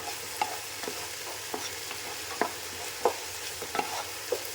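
Chicken fried rice with vegetables and sauce being stirred in a pan, a low continuous sizzle punctuated by regular scraping spatula strokes, close up and quiet, no voices.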